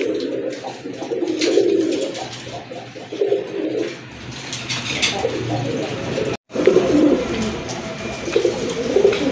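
Puppet-throat pigeons coo up close in repeated low, throaty bursts that rise and fall over several seconds, with a brief break partway through and faint background noise.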